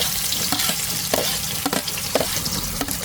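Onion and garlic sauté in a hot pan with a loud, close sizzle, punctuated by repeated stirring scrapes at an irregular rhythm, with no talking.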